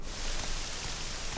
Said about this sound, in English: So it's now raining.